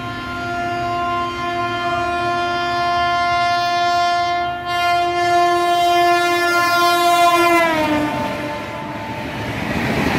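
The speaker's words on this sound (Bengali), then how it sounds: "আসছে train Bolpur Santiniketan superfast express" A Bolpur Shantiniketan Superfast Express train passes close by, sounding a long, loud, sustained horn blast that bends downward in pitch as it goes past, over the rumble of the moving train.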